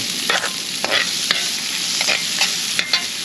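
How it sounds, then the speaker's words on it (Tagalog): Garlic and onion fry in hot oil with a steady close sizzle, broken by repeated sharp scraping strokes of a spoon stirring the pan, with no talking. "Mainit na po yung mainit na po. Lagay na po natin ating bawang at sibuyas."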